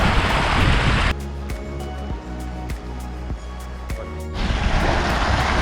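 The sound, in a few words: mountain stream from waterfall flowing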